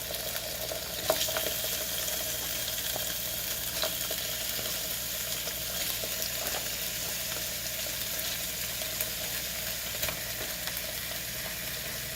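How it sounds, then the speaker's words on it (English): Washed lamb pieces for a lamb stew hit a hot pot and sizzle and fry steadily, a dense continuous crackle close by with occasional louder pops and no talking. "I'm probably going to get some sizzle on it because the lamb does have some water from being washed."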